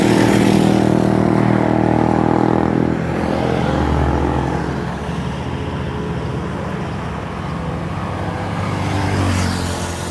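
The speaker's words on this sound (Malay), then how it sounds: "ada orang ambil motor lah" A motorcycle ridden off near a Plaza Hentian Kajang lockdown site, engine revving loudly up close at first and then fading to a steady drone as traffic rumbles behind.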